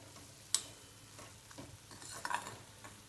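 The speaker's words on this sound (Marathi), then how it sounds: "आता थोडी परतून घेऊया भाजी।" Chickpea leaves are stirred in a pan over low heat, giving a faint sizzle with soft scraping and a couple of sharp utensil clinks against the pan.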